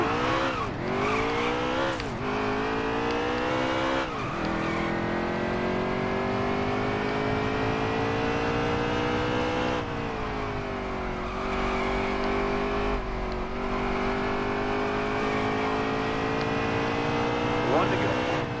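A race car engine in a racing video game screams at high revs, its pitch climbing and dropping through gear changes, loud and continuous with someone talking over it.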